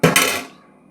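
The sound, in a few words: plate placed as a lid over a pot of boiling water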